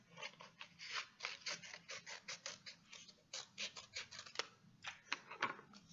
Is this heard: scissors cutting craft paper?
yes